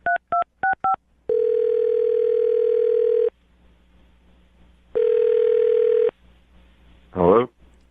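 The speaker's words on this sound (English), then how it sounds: "I'm going to dial his phone number right now" Touch-tone keypad beeps open the sequence, followed by two long steady dial or ringback tones separated by a pause, loud and close, with a short burst of voice at the end.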